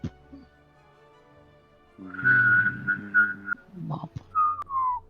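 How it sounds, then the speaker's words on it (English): Someone whistles a bright, wavering tone while humming a low note underneath at the same time, in a few short phrases close by. "It's what happens when you whistle and hum at the same time"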